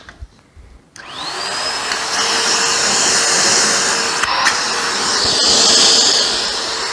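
A brand-new Bissell Pet Hair Eraser Turbo Plus upright vacuum, with clean filters, starts up after a second of quiet and runs at a loud, steady roar with a high whine, the pitch dipping briefly midway before recovering.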